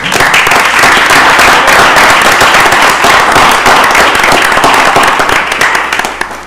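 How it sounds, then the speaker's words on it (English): Attendees at a county commissioners meeting give a loud, sustained round of applause, dense clapping filling the chamber for several seconds before tapering off. "So I'd just like to give her a round of applause and thank her for her service."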